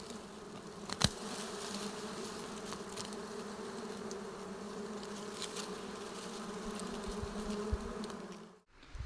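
Dwarf honey bees swarm around their nest with a steady, dense buzzing of many wings held close to the microphone, with a few louder passes near the start and end.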